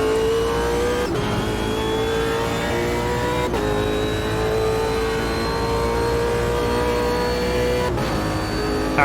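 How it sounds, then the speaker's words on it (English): V8 race car in the racing game Automobilista 2, engine screaming at high revs in long rising pulls with three sharp gear changes, loud and alone with no talk. "now we get the opportunity to absolutely unleash this V8."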